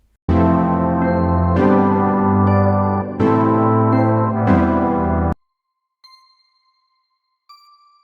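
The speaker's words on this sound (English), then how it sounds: "Now I think it's sounding much better with the reverb." A sustained synth melody of long chords plays loudly, then stops, leaving sparse reverberant tones ringing out in the silence.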